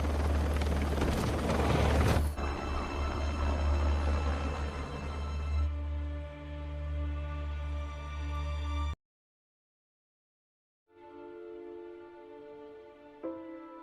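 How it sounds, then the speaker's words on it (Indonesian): A helicopter in an action film rescue sequence over Dhaka roars loudly at first, its rotor wash fading into a tense orchestral score that drops out briefly before resuming. "dengan menggunakan helikopter, Nick dan tim berhasil menyelamatkan Ovi dan membawanya pergi dari kota Dhaka"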